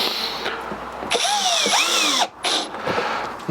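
A power drill drives screws into a Keter Denali 100 plastic garden box. Two close, loud bursts of motor whine rise and fall in pitch, with a brief pause between them.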